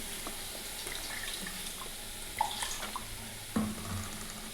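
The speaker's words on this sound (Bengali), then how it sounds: "অল্প একটু জল ঢেলে দিলাম" A small splash of water poured into a pan of boiled lentils with turmeric and fried onion, a soft running trickle with two brief louder splashes near the end, heard alone.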